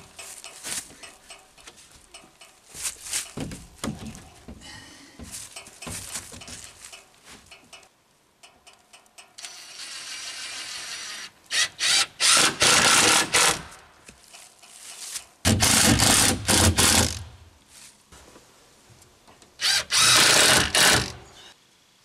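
A power drill driving screws through T1-11 plywood siding panels around the perimeter of a sheet, heard as several short whirring bursts separated by pauses, with clicks and handling noises between them.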